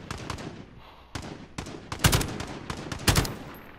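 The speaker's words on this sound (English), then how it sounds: "Keep shooting at that dude I was shooting at." Gunfire in the video game Warzone: several sharp bursts and single shots crack close by at uneven intervals, with the loudest volleys near the end.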